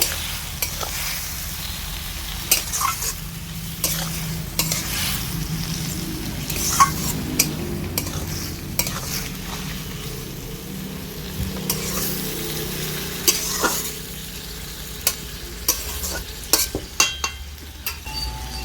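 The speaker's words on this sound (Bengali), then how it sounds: "ভালো করে নেড়ে মিশিয়ে নেব" Spinach with spring onion leaves stirred in a pan while frying: a steady sizzle beneath repeated scraping and clinking of the spoon, fairly close and without talk.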